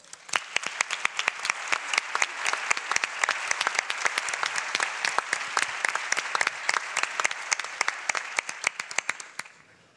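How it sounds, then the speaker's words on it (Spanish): Audience at a public forum applauding steadily for about ten seconds, a dense, even run of many hands clapping close together that tapers slightly at the end. "Así que vamos a empezar con este aplauso."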